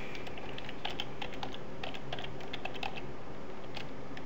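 Rapid keys clatter on a computer keyboard in quick, uneven bursts of close, light taps over a low steady hum, with no talking.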